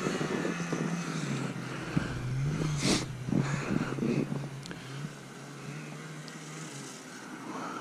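An 850 snowmobile engine revs and pulls as it accelerates hard, a loud buzzing whine rising and falling over several seconds and then settling into a steadier drone, with no talking.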